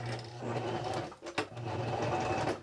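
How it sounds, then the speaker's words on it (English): A sewing machine runs a back stitch through fabric for a mini stocking ornament: a steady close motor whir with a brief pause and restart midway, no talking. "Put the presser foot down. I'm going to do my back stitch."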